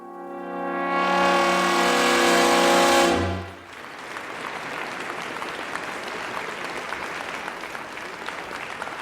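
A held musical chord cuts off and gives way to steady theatre audience applause, a dense wash of many hands clapping that carries on evenly to the end.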